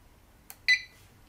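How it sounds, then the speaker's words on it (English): A single short electronic buzzer beep from a reflow oven controller sounds, quiet and brief, preceded by a faint click in an otherwise hushed room. "as soon as the buzzer goes, the screen goes blank."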